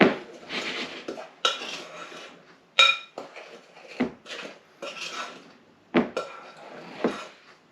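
A utensil scrapes and clinks around a bowl while caramel apple muffin mixture is gently stirred, coming in irregular bursts of scraping with short pauses between, close and fairly clear.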